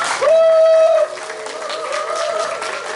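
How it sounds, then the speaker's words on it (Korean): A seated audience at a church parents' seminar claps to welcome a guest speaker: a sustained spatter of applause follows a brief tonal whine at the start and carries on steadily to the end. "우리 손미숙 집사님 박수로 환영합니다."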